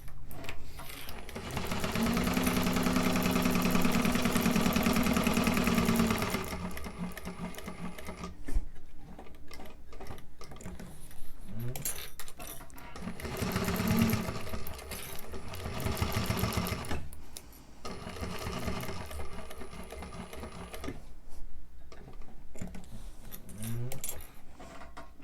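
A sewing machine stitching a fabric wristlet in bursts of rapid, even needle clatter, one long run and several shorter ones separated by pauses and small handling clicks, close and moderately quiet.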